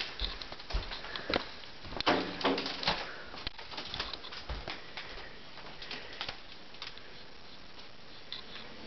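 A bird trapped indoors keeps flying into a closet, producing wing flutters, thumps and scattered knocking sounds. Faint cooing comes through above a steady background hiss, with no one talking.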